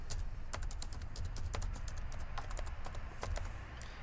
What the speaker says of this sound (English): you can type your message